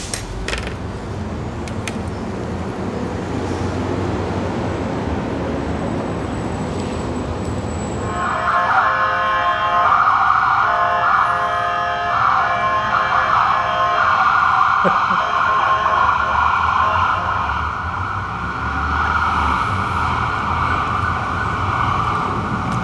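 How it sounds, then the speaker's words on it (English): Ambulance sirens wail and warble in Fort Worth's hospital district, starting at about eight seconds and holding loud and close for more than ten seconds over a low hum of street traffic. "no less than 4 ambulances have gone by"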